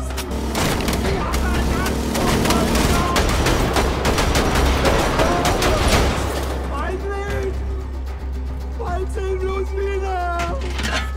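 Rapid gunfire and booming shots in the shooter Wolfenstein: The Old Blood, loud bursts for several seconds, then thinning out as voices shout and talk over the combat.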